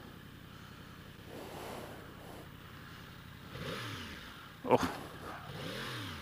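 A 2016 Yamaha R1S sport motorcycle engine revs in rising and falling sweeps, fairly faint and somewhat distant, with a brief louder clatter near the end and a short spoken exclamation over it.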